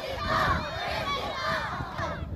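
A lucha libre arena crowd cheers its favourite luchadores during a Místico and Arcano bout, a loud dense roar of many voices, rising and holding steadily.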